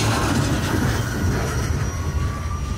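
A train rolling along the center track beside Elm Street in Greensboro, a steady loud rumble of wheels on rail with faint squeal, continuous and close throughout.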